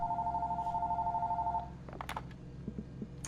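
A phone in the horror game Fears to Fathom rings with a steady electronic trill for about a second and a half, then stops, followed by a few clicks and soft handling sounds.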